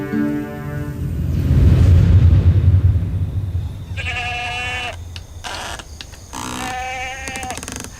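Goat bleating, several loud nearby wavering bleats in two bursts after a deep rumbling boom, with no talk.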